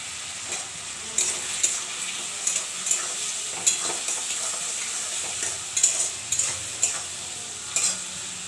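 Potatoes with salt and turmeric fry in a pan with kalo jeera for aloo posto, a steady soft sizzle broken by regular scraping stirs of a spatula, close and moderately loud, no talking.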